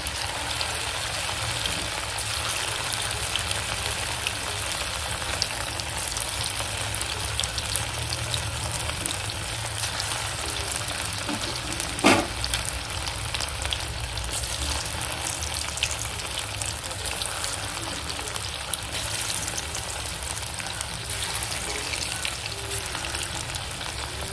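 Chicken 65 pieces fry in oil in a small kadai, a constant rain-like sizzle that stays fairly soft and steady, with one brief clink midway and no talk.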